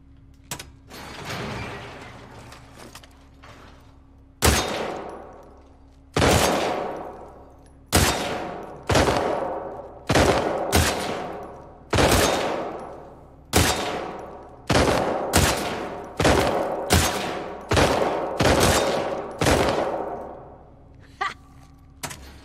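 Gunshots ring out in a target shooting contest in The Last of Us Part II, with about fourteen loud, sharp reports at a steady, unhurried pace, each one trailing off briefly before the next.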